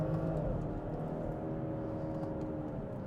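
A 2019 BMW 640i xDrive Gran Turismo with the B58 engine accelerates under full throttle after a downshift, a steady rising engine hum and whir heard from inside the car.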